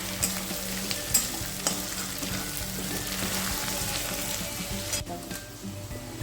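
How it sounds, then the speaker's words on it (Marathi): Garlic, ginger and green chillies sautéing in a home-cooking pan, a steady close sizzle with the scrape and clatter of stirring throughout. "एक दोन मिनिटं मस्त परतून घ्यायचं लसूण आलं आणि मिरची"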